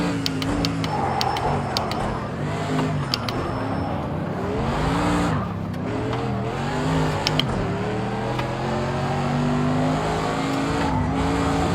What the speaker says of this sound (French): Je pars un petit peu en drift là.